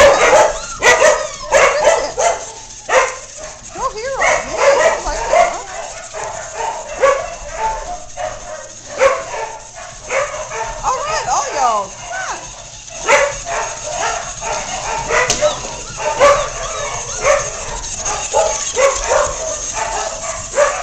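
Several dogs barking, yipping and whimpering excitedly over a new toy, a dense, continuous run of close, overlapping barks and yelps with no pause.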